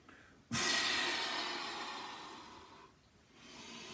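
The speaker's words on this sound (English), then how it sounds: "Exhale, through pursed lips." A long, airy exhale pushed through pursed lips during a Pilates breathing exercise starts sharply and fades slowly, then a quieter breath follows after a short pause, close and alone.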